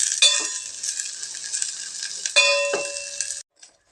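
Garlic fries in hot oil for a sambar tempering, a bright steady sizzle with a couple of metallic clangs from a utensil striking the pan, then it stops abruptly.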